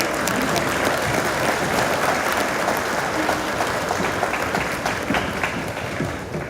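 An audience at a school band festival concert gives a sustained, dense round of applause that stays loud and even throughout, with a faint murmur of voices underneath.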